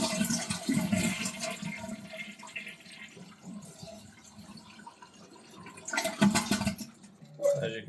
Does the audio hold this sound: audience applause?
no